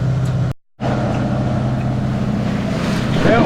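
A 1936 wooden motorboat cruising through choppy seas, its engine giving a loud, steady droning rumble with wind and water rush on top, briefly cut off by a short drop-out near the start.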